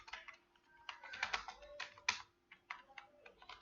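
Keys clatter on a computer keyboard as simple text is typed in a graphic design program, quick irregular bursts of clicks with short pauses, fairly close and clear with no voice over them.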